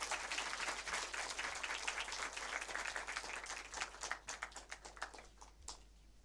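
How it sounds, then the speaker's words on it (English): An audience applauds as a speaker is invited to the stage at an International Women's Day event. The clapping is dense and distant, then thins into scattered individual claps before stopping. "Please give her a round of applause."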